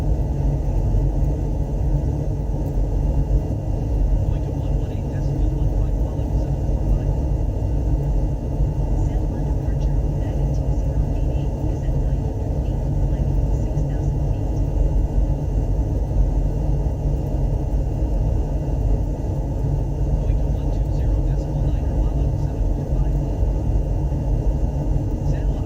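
Steady low rumble of engine and airflow noise inside a Boeing 737 cockpit during climb, constant and droning with no breaks, a dense low-frequency roar filling the whole stretch.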